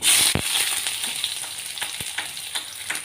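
Onions fry in hot oil with panch phoron and dried red chillies, a loud, steady close sizzle throughout, with an intense burst at the start and occasional stirring clicks.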